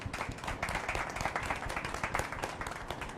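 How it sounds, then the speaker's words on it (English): A crowd applauds steadily at a brand-building networking event, many hands clapping in a dense, even patter that continues throughout at moderate volume. "Let's give him another round of applause."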